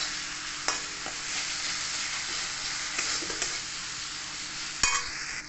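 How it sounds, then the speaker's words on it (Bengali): Gram flour (besan) fries with spices in a pan, giving a continuous close sizzle with occasional sharp clicks and scrapes of a spoon against the pan, and no speech. "ভালো করে বেসনটাকে ভেজে নেবো মশলার সাথে"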